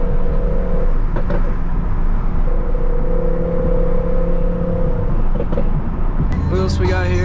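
A BMW 335xi pulls hard on a street, its engine a loud, steady droning roar that swells toward a rising whine near the end, with people talking over it.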